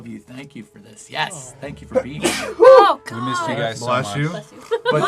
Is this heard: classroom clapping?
no